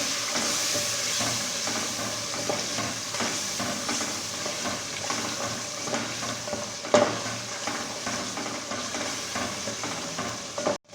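Masala spices with turmeric, salt and garam masala sizzling and frying in a pan with a little water for daal mash, stirred steadily with a spoon; a continuous close hiss with scraping strokes and a sharper knock near the end, no talk.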